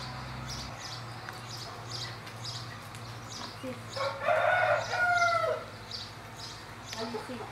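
A rooster crows once at mid distance, a loud drawn-out call rising over quiet farmyard background with faint rustling.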